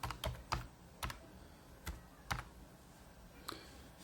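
Separate key presses on a computer keyboard come in an uneven rhythm of sharp clicks, close and fairly quiet, with no one speaking.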